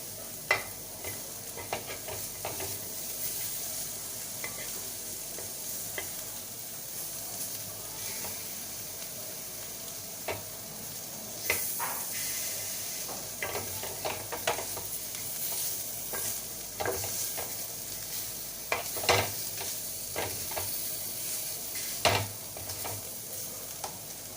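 Chicken kebab fries in a pan over a high gas flame, with a constant close sizzle and hiss and repeated sharp clinks and scrapes of stirring that sometimes come in quick bursts.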